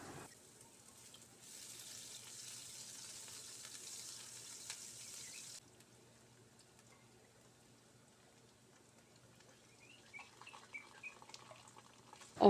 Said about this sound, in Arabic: وأحمس البصل حد ما يذبل ويتغير لونه